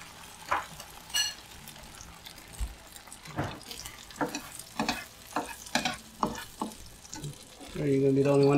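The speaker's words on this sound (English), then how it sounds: "and then you just fry it" Tortang talong, grilled smashed eggplant dipped in egg, fries in a pan with a soft background sizzle punctuated by scattered utensil taps and scrapes, ending in a louder rush like running water.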